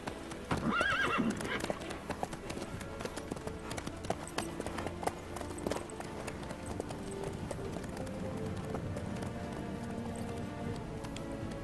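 Horse hooves clip-clopping at a steady gallop in the Witcher 3 video game, with a neigh or whinny early on, running continuously under game music and ambience.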